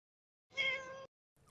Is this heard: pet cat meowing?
yes